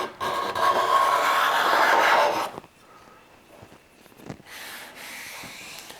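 A steel card scraper drags across rough-cut oak, pulling shavings in a long, loud rasping stroke followed by quieter, lighter scrapes.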